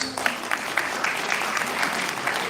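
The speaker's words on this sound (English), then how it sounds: "Ladies and gentlemen, can we give them a round of applause?" An audience at a Grade 12 graduation ceremony claps for the graduates, a dense and even round of applause from many hands, held steady throughout.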